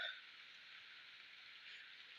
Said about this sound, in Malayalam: മഴ മഴ പെയ്യുന്നുണ്ടേ മഴ പെയ്യുന്നുണ്ട്